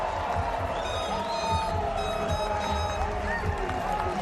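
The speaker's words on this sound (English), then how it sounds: "Pretty impressive Canadian crowd now enjoying this" A large Canadian rugby crowd cheers at the Edmonton Sevens during Canada's match against Mexico, producing a steady, dense roar at a distance under a sustained wash of noise.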